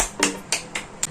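A primary school class of second graders clapping hands in a few sharp, separate claps, roughly four distinct bursts spaced unevenly over about a second.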